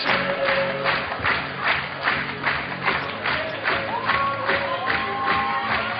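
Crowd cheering and applauding at the 2012 Climbing World Cup bouldering finals in Innsbruck, a loud, steady roar with rhythmic clapping and whoops throughout.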